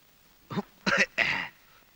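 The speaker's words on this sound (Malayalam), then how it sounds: "എന്താ ഒരു കണിയാന്റെ ചുമ?" Three short, throaty cough-like bursts in a quiet room, evenly spaced and fairly close, the last one a little longer, consistent with a man's dry throat-clearing cough in a Malayalam movie scene.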